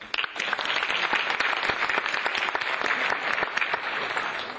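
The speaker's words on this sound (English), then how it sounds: "I want to give her a round of applause." An audience at a surgical association event gives a round of applause: many hands clapping steadily and fairly close, a full continuous burst without talk over it.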